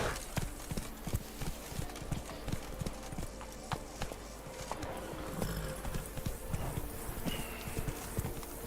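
A horse gallops in The Witcher 3: Blood and Wine, with rapid, regular clip-clop hoofbeats carrying on steadily over an ambient game background, fairly close and even in level.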